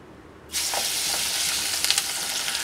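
Banana flower vada frying in hot oil in a kadai, a steady loud sizzle that bursts in at once and holds bright and continuous with small crackling pops, no voices.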